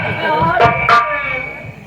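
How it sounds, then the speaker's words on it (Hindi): A few dogs bark and yip in short sharp bursts close by, mixed with voices and a noisy outdoor background. "ये भी सारा कुत्ता आ गया।"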